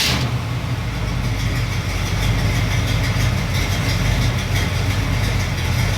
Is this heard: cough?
no